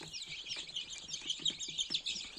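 Small high-pitched peeps chirp continuously in a busy cluster, with soft low clucking and pecking sounds underneath.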